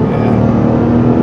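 Toyota GR Corolla with a 300 HP engine revving hard, a loud close steady engine roar held for a brief moment.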